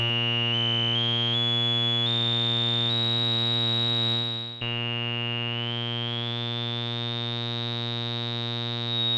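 A steady, buzzy tone from an all-analog MIDIMOOG synthesizer rings out while its filter cutoff sweeps slowly upward, making the resonant peak glide higher, with a brief dip partway through.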